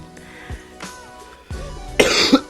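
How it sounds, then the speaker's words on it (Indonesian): A person coughs a few times in short, sharp bursts, the last ones louder and rougher, with a brief throat-clearing quality between them. "Batuk."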